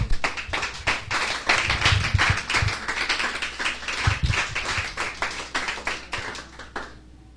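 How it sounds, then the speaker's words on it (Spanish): Strong, rhythmic clapping from a church congregation, loud and close, keeping a steady beat for several seconds before fading at the end. "Dale un fuerte aplauso."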